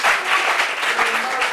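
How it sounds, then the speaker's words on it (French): Studio audience at a French talk show bursts into applause, a short, loud and dense burst of clapping throughout. "On applaudit, s'il vous plaît."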